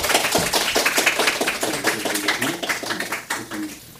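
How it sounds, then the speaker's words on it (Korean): Congregation at a Korean church Sunday service in Los Angeles claps to welcome the pastor, a brisk burst of hand claps filling the room and tapering off near the end. "우리 목사님 나오실 때 박수 한번 쳐드릴까요?"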